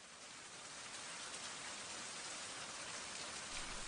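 A heavy summer downpour over Shanghai in August at the Fuquanshan archaeological excavation site: a dense, steady hiss of rain drumming on surfaces, loud and unbroken throughout with no voices.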